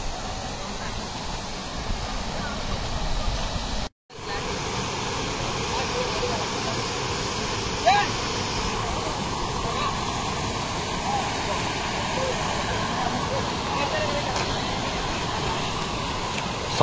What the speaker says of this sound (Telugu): సౌండ్ అయితే భారీగా వస్తుంది, వాటర్ సౌండ్.